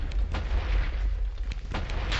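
Rumbling explosion in Minecraft, a deep sustained boom with crackling debris that stays loud across the short stretch, no talking.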